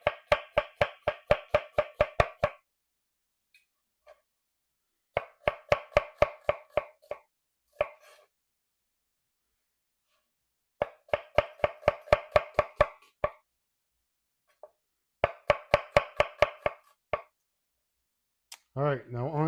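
A knife chops an onion on a cutting board in fast rhythmic bursts of sharp taps, each run lasting a couple of seconds and separated by pauses, loud and close.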